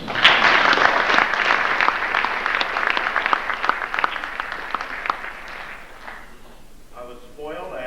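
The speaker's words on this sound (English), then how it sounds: "These young men deserve a round of applause." Sustained applause from the audience at a school winter sports awards night honoring the team, dense and loud for several seconds before fading into quieter scattered claps and room noise.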